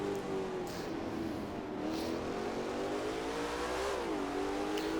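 Race car engine in Assetto Corsa, an IMSA GTX car at Black Cat, drones steadily throughout, with pitch rising and dipping as it revs through gears, loud and continuous with no talk.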